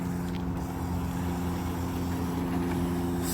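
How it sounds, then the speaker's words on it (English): A retrofitted electric hub motor on a 1999 Peugeot road bike whirs steadily under pedalling, an even mid-pitched electric whine over rolling road noise, with no talk. "the motor's kicking in"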